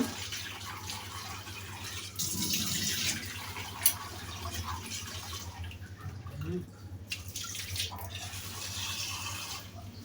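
Water runs steadily from a tap into a container to soak vegetables such as button mushrooms, carrots and pak choi, a continuous close splashing rush with a faint voice briefly in the background.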